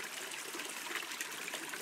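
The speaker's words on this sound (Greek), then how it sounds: "βλέπετε εδώ ορμητικός καταράκτης που σας έχουμε φέρει" A rushing waterfall on a mountain hike near Triadi in Greece gives off a steady, hissing wash of falling water, continuous and fairly soft, with no voices.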